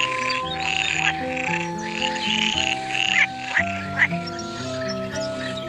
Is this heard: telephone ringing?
no